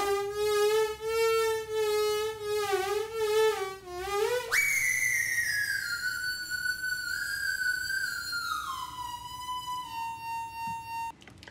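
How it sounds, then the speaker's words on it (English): A Max synthesizer driven by stock market data plays gliding, wavering electronic tones, first warbling up and down, then jumping to a higher held pitch that steps down, clear and alone. "a synthesizer that is controlled by stock market data"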